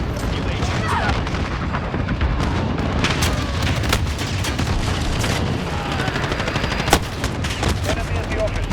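Dense gunfire and explosive booms fill a Call of Duty Modern Warfare match, steady and loud throughout with one sharp crack near the end, under faint in-game radio chatter.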